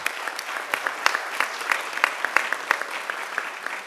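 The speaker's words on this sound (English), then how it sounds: "Can I ask everybody to give this committee a big round of applause?" Audience at a commission meeting claps for a committee, a moderately sized crowd giving crisp, distinct individual claps in an irregular steady patter, fairly close and continuous.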